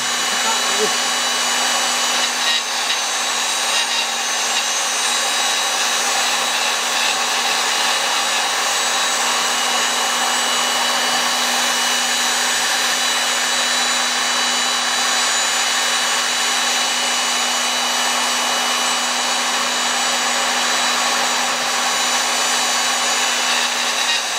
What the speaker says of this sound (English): It sounds like when it starts to grind, it's not rigid enough and it just gets snagged.